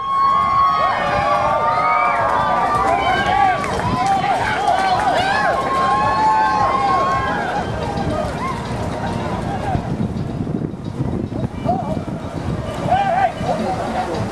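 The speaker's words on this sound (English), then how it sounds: "let's cheer them on" Crowd at an Ontario Place park event cheering on two competitors trying to knock each other off, a loud mix of shouts, whoops and excited voices that swells early and thins toward the end, with people talking throughout.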